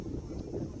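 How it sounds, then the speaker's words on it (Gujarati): Steady wind blowing across an open rooftop, a continuous low rushing roar buffeting the microphone throughout, with no clear talk over it. "નીંદર નીંદર આવી જાય એવો પવન આવે"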